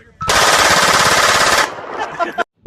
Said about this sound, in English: This, boys and girls, is a PPSH 41.